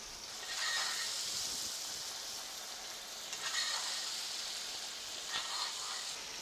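Steak searing in butter in a Lodge cast iron pan gives a steady, fairly loud broadband sizzle that swells in bursts as fat spatters, with no talking.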